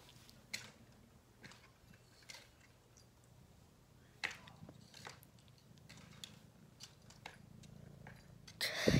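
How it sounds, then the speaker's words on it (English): A cat purrs softly and close, a low continuous rumble running under sharp intermittent clicks and rustles, with a louder scuffing burst at the very end. "He's purring."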